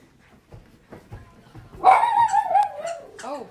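Puppies bark and yip close by, a run of loud, rising and falling high-pitched yelps after a few softer scuffles and whimpers.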